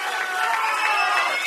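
A boxing crowd screams and cheers for fighter Jordan Watson as he is introduced, a dense, steady roar of many voices filling the hall throughout.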